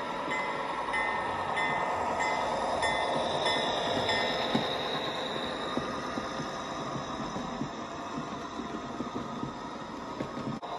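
A steady rumbling large-scale model train runs close by, a continuous clattering roll with faint high tones above, no voices.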